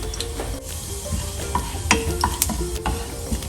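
Half a teaspoon of cumin seeds sizzles in hot oil in a pan, a soft continuous crackle broken by sharp clicks and scrapes of stirring, heard close with a low background hum.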